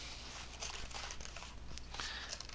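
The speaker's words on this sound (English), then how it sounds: "You just kind of wiggle your scissors as you're going" Scissors snipping through paper while being wiggled along a freeform curve, giving a steady run of soft crinkly cutting sounds, close and fairly quiet with no talk.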